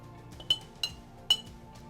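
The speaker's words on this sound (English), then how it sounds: "Then just giving this a gentle stir to melt the condensed milk" A spoon stirring condensed milk into iced coffee in a glass, three bright clinks against the glass spaced unevenly over a quiet background.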